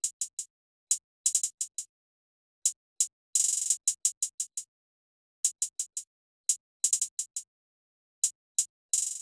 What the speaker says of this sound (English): Next thing I added was this first hi-hat pattern.